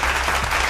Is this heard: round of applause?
yes